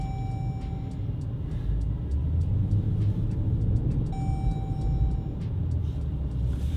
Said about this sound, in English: Let's throw it in reverse here.